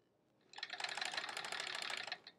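A sewing machine stitches quilt pieces together in one quick, close burst of rapid mechanical ticking lasting about two seconds, then stops.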